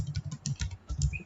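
Fingers type code on a computer keyboard in a quick, slightly uneven run of close, soft key clicks lasting about a second, with no talking over them.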